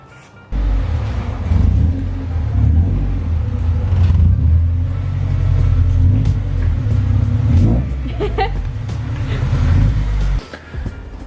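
Honda EG car engine with new exhaust pipes, idling high and revving in a steady, loud rumble close by for about ten seconds, cutting off briefly near the end.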